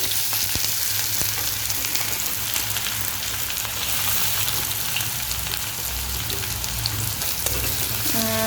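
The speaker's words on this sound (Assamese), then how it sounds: "পিঁয়াজখিনি আমি অলপ ৰঙচুৱা হোৱালৈকে ভাজি ল'ম ধুনীয়াকৈ।" Continuous loud sizzling of onions frying in hot oil, with crackles and pops over a low steady hum, no voices.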